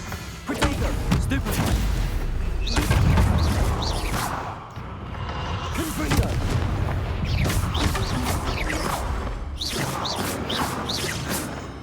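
Explosive spellcasting in a wizarding video game booms and whooshes in a dense barrage, heavy blasts and sweeping swishes layered continuously, loud and close, mixed with game noise.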